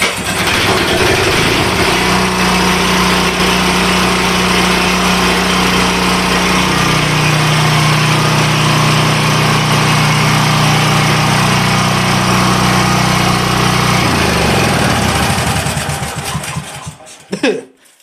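A small engine runs loud and steady after being cranked, its low drone holding for about fifteen seconds before sputtering and cutting out to near silence.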